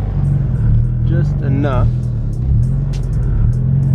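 A widebody Honda Civic's engine idles and rumbles steadily as it reverses. The sound is close and continuous under brief talking.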